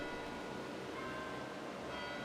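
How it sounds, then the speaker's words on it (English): Chime bells are rung by hand from an abbreviated keyboard, sustaining faint, distant metallic tones with a steady wash behind them and no talk. "an abbreviated keyboard is used to manually ring the bells"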